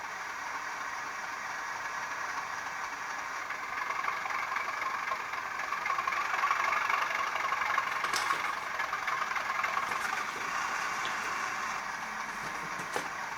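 A model Class 37/7 diesel locomotive's DCC sound idles, a low, steady engine hum with a faint rattle, growing slightly louder in the middle.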